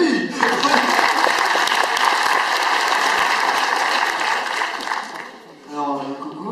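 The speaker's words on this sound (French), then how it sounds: "On l'applaudit." A conference audience applauds loudly, a dense wash of clapping that holds steady for several seconds before tapering off, then a voice begins speaking.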